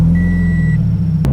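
Scion FR-S sports car driving, a steady low engine rumble with road noise from inside the cabin, brief and continuous with no talk.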